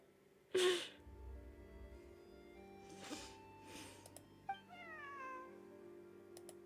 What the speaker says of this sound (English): where did you get the cat?